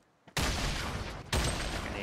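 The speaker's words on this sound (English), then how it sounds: "Explosion!" Explosions in the Fortnite battle royale video game: two sudden loud blasts about a second apart, each bursting in and lingering as a rumbling roar.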